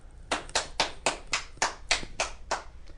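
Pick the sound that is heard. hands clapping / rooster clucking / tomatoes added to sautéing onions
hands clapping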